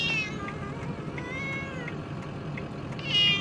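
A cat meows and caterwauls in short, drawn-out cries, close and fairly loud, with a stronger call at the end.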